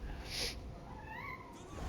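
A cat meows somewhere in a room, a short, faint cry rising and falling once, under a steady background hiss with no talking.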